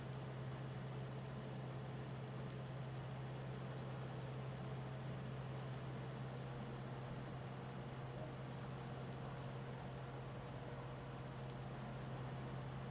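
Steady, dense rain hiss in the video game Farming Simulator 19 fills the whole stretch, with a constant low hum underneath and no voices.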